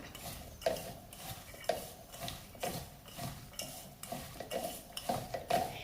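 Chopped raw mango being rubbed by hand with crushed rock salt for pickle, soft close-up scraping and gritty rustling with small knocks against the bowl at irregular intervals.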